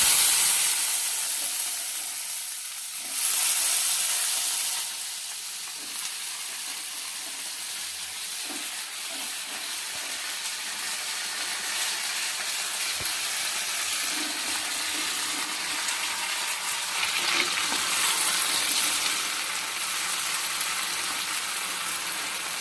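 Pitted jujubes (kul) frying in a pan for village-style pickle, a continuous close sizzle and hiss with occasional scraping stir strokes and brief louder bursts.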